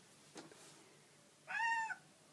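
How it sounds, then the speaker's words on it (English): A cat meowing to be let in, one short clear mid-pitched meow, faint and indoors, after a brief soft knock. "the cat wants to come in"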